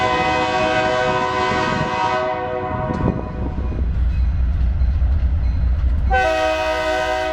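A BNSF grain freight train pulled by a trio of locomotives slowly approaches, sounding loud, sustained horn blasts over a deep engine rumble. The horn cuts out midway, leaving the low drone, then blares again near the end.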